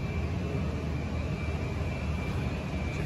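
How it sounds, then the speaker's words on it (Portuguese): A Korean Airlines jet taking off at Hong Kong airport, heard as a steady, broad engine roar that holds loud and constant throughout with no voices. "o avião que estava parado é saindo agora. Autorizar a decolagem, vai passar aqui perto"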